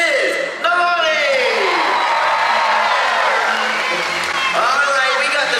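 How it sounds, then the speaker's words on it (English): Audience at a SeaWorld show cheering and whooping in a loud sustained roar, with a voice calling out over the crowd noise. "I want to hear a big cheer for the birthday girl."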